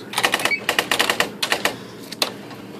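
A Smith Corona PWP 50 word processor typewriter types in a rapid, uneven run of crisp keystrikes, loud and close, with brief pauses between bursts.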